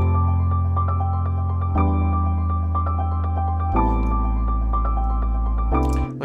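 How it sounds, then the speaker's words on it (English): A sampled keyboard loop plays over sustained synth chords in FL Studio, with a repeating melodic pattern above deep chord changes roughly every two seconds, loud and with no talking. "Playing it over top of synth chords,"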